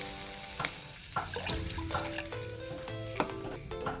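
Masala powder stirred and frying in a pan for a sardine fish curry, a soft continuous sizzle with intermittent scraping stirs and light clinks, close by, no voices.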